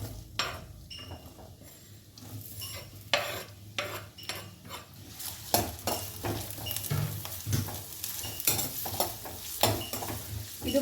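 Sliced onion and green chillies hit hot oil and crackle, with repeated scraping and clinks of a spatula against the pan in an irregular rhythm, close up and no speech.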